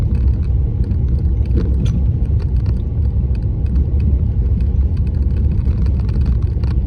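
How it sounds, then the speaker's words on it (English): Interior road rumble and engine drone from a 2014 Jeep Cherokee Trailhawk with 4-wheel drive, steady and loud throughout while cruising through a national forest, with no talking. "I am driving a 2014 Jeep Cherokee Trailhawk"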